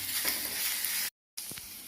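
Tomatoes and other ingredients for hotel-style kadala curry sautéing in a pan, a close bright sizzle with stirring scrapes, cut by a brief silent gap before the frying resumes.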